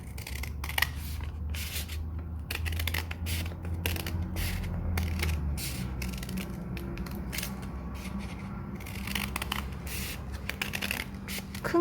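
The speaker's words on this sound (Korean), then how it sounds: "밑에서부터 가위질을 시작합니다." Scissors snipping through folded paper to cut a paper snowflake, a steady series of close, crisp cuts and rustles running throughout with no talking.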